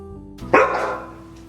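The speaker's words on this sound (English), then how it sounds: "My dogs are barking again." A single dog's bark in a home, one sharp close bark rising out of a quiet room tone and trailing off, with no speech around it.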